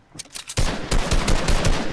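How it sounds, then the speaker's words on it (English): Gunfire in the video game Fortnite: a rapid burst of repeated gun shots, loud and close, starting after a short quiet lead-in and continuing to the end. "Oh shoot, I accidentally used my gun."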